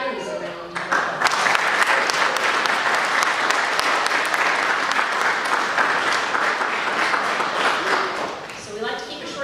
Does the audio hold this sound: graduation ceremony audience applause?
yes